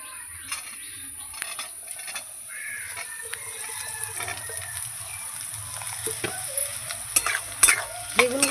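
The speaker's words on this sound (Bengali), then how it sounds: "এটাকে ভালো করে তেলের মধ্যে আমি ভাজবো" Sliced eggplant frying in hot oil with onions already fried reddish, a steady close sizzle broken by repeated stirring scrapes in the pan, with a crow cawing faintly in the background.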